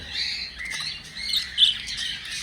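Budgies, local birds crossbred with English budgies, chatter inside a flight aviary, giving off a steady wash of soft twittering with a couple of sharper squawks near the end.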